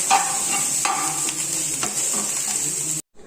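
Beetroot curry mixture sautés in a pan on low flame, a steady bright sizzle with occasional scraping knocks of a stirring spoon, ending abruptly.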